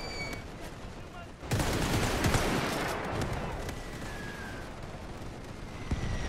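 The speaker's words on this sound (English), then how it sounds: "Machine guns." Machine guns rattle in The Great War 6.0, a quiet lull broken by a dense, continuous barrage of rapid gunfire and distant booms that keeps going to the end, with no voice over it.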